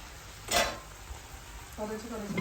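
Boiled basmati rice tossed with vegetables and chicken in a hot pan for fried rice, a brief scraping stir near the start, then a low sizzle taking over toward the end, fairly quiet overall.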